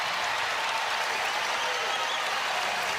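A home crowd at an NC State Wolfpack women's basketball game against Virginia cheers and applauds in the third quarter, a steady broadband roar that holds throughout without letting up.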